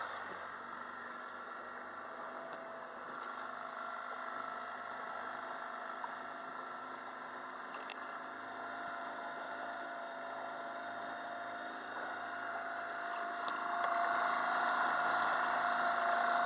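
A boat's inboard engine hums steadily while leaving a marina, a continuous mid-pitched drone that swells noticeably louder as the revs come up near the end.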